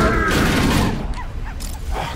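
A grenade exploding in the video game Halo CEA, a loud booming blast with dense rumble and crackle that fades into scattered gunfire and game effects.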